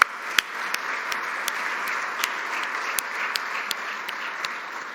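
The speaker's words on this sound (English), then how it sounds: "Let's give them a hand of applause." A room full of listeners at a business speaker event on Texas logistics breaks into steady, moderate applause, a dense, even patter of many hands with a few sharper individual claps standing out, and no one speaking over it.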